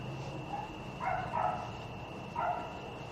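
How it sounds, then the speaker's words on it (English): A dog somewhere nearby gives a few faint, short barks: a single yip, then a quick pair, then one more, set against a steady background hum. "the dog is barking"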